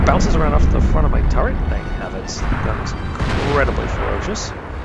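Tank cannon fire in World of Tanks from a T34, booming heavy impacts beneath continuous narration by a man, with engine rumble and battle noise throughout.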